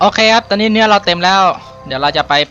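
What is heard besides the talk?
None of the usual background noises is heard.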